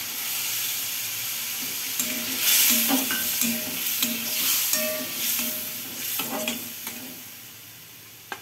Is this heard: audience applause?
no